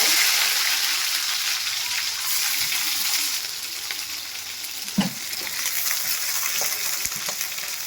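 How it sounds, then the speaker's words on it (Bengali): Chopped onion fries in hot mustard oil, a loud, close, continuous sizzle that fades slightly midway, with a couple of sharp clicks from stirring near the end. "সর্ষের তেল দিয়ে দিলাম দেখুন তেল গরম হয়ে গেছে আমি এখানে একটা পেঁয়াজ কেটেছি পেঁয়াজটা একটু দিয়ে"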